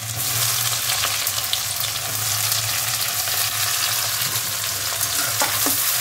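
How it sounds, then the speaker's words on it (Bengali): Onions fry in a wok of hot oil already spiced with cumin and dried chilli, giving a steady, close, continuous sizzle with faint stirring scrapes and no voices. "পেঁয়াজগুলো দিয়ে দিচ্ছে।"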